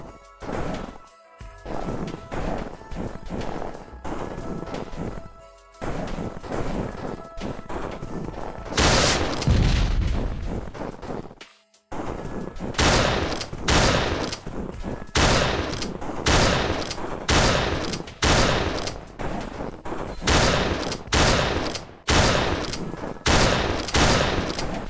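Repeated loud shotgun blasts in a video game, each a sharp crash with a short tail, fired in rapid irregular succession with a brief pause partway through.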